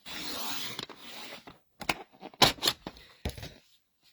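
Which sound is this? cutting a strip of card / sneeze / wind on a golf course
cutting a strip of card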